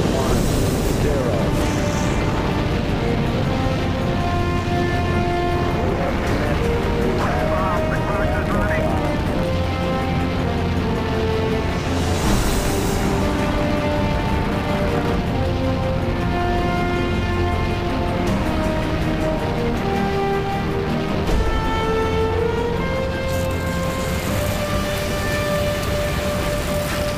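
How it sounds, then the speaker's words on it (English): The Saturn V rocket's engines roar at launch as a continuous, loud, rumbling blast with crackling texture, mixed with steady radio chatter and voices throughout. "ignition sequence start. The engines are on."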